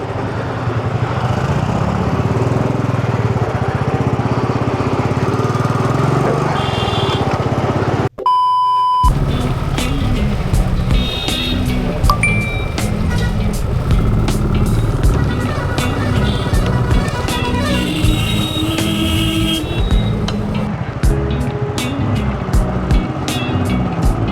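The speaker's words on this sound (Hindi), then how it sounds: "भाई पूरा जाम है, अब तो दोनों तरफ से जाम हो गया।" Jammed mountain road traffic on the way back from the Hemkund Yatra near Srinagar, with steady engine rumble, horn beeps and motorcycle noise throughout, broken by a sharp short cut near the middle.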